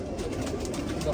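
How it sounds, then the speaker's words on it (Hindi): Fancy pigeons kept by a hobbyist in Tanda cooing softly, a brief low murmur set under a voice. "बहुत अच्छे कबूतर इनके हैं।"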